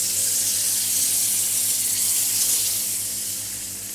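Water pours steadily into a cooking pot for pilau rice, a close, continuous splashing stream that eases off slightly toward the end, with no talk.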